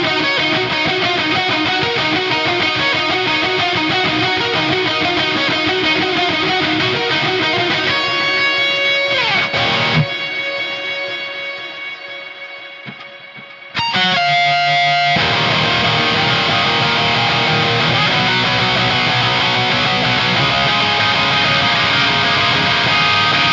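A distorted high-gain electric guitar riff played through a Bondi Effects Sick As Overdrive with delay and reverb, loud and sustained, breaking into a short quieter ringing gap before the heavy riff crashes back in.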